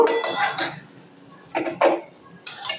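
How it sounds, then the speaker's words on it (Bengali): A spoon stirs potatoes and drumsticks in a cooking pot, giving three bursts of close metallic scraping and clinking separated by quiet pauses, clear against a silent background. "আলু আর সজনে ডাঁটাগুলো সিদ্ধ হওয়ার জন্য আবারও একটু আমি নেড়ে চেড়ে দেব"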